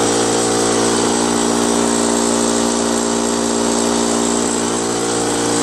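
A Brute Briggs & Stratton 10-gallon, 125 psi air compressor, stuck unable to fill past 50 psi, runs with a loud, steady, unbroken mechanical drone and whine, close up, with no talking.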